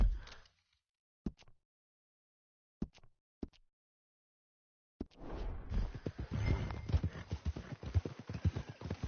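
Horse hooves clip-clopping in Red Dead Redemption 2, a few isolated hoof knocks at first, then a steady close rhythm of trotting hooves with soft tack and ambient noise.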